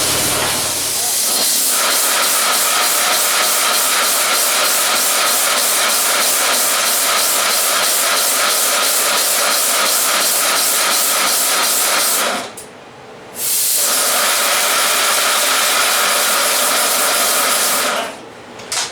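Steam locomotive working on fairly low steam pressure, giving a loud, steady hiss and rush that runs continuously, with two brief drops near the end and no talk.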